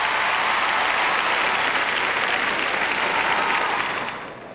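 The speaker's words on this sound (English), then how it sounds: "Plenty of American fans here north of the border cheering on the U.S." Large arena crowd at a World Figure Skating Championships short program, fans cheering on the U.S. champion Timothy Goebel, roaring with dense, sustained applause and cheers that stay loud throughout before easing slightly at the very end.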